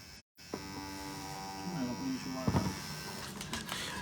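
An electric hair trimmer hums continuously with a steady, bright buzz, briefly cut off near the start, then running on while someone talks over it in a sales setting.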